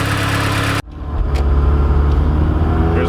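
Porsche 944 engine at full throttle, opening with a loud sustained roar that cuts off sharply, then rebuilding into a strong, steady engine drone close by with no talking.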